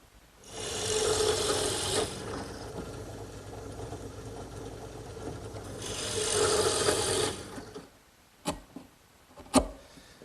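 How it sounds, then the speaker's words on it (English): Two long bursts of grinding, rasping machine noise as a drill press bit bores one inch deep into wood, separated by a quieter pause, followed by a few sharp knocks. "I've also adjusted the drill press so that it has a limit."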